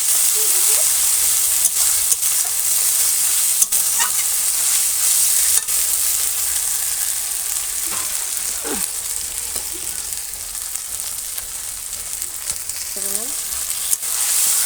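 Onion, garlic, cumin, ginger and tomato masala sizzles and fries steadily in a pan over a wood fire, with repeated scraping stirs rising above the constant frying hiss.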